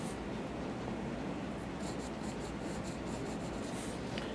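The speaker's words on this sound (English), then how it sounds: "I'm gonna get a bigger pencil here." A large pencil drags across paper in continuous scratchy strokes while shading a perspective drawing, a faint, close, steady rasp with no pauses.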